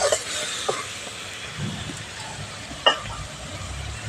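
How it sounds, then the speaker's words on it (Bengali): Onion, tomato and ground spices frying together in a pan while being stirred for kosha masala, a steady low sizzle with a few scraping strokes and one sharp clink, no talking. "পেঁয়াজ টমেটো আর গুঁড়ো মশলা সমস্ত কিছু খুব ভালো করে কষিয়ে নেব"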